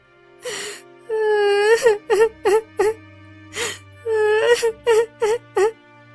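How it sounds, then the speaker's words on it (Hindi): A woman wails and sobs loudly in an animated story, drawn-out cries broken by short gasping sobs in a steady rhythm, close and alone with no other voices. "तभी राजकुमार और वो तोता उस स्त्री की रोने की आवाज सुनकर उसके पास जाते हैं।"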